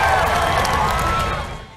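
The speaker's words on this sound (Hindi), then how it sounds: "ख़ातिन व हज़रात भरपूर तालियों में इस्तकबाल कीजिएगा" An audience at an education and skills orientation event for Imran Khan bursts into loud applause and cheering to welcome the next speaker, a thick wash of crowd noise that tapers off near the end.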